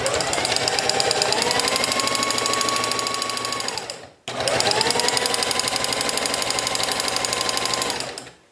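A sewing machine stitches along the edge of a fabric face mask in two long bursts of rapid, steady needle clatter, with a brief stop between them as the motor winds down and restarts.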